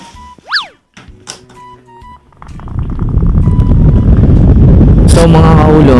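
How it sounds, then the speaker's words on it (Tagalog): Wind buffets a Senda SD-MM1 microphone used without a windshield, a loud continuous rumbling roar that builds after a few brief boings and thunks at the start. "Subukan uli natin siya sa hangin."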